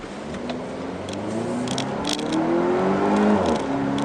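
A Volvo XC60 T6 Inscription AWD SUV accelerates at full throttle, its engine note rising steadily in pitch and loudness over a few seconds.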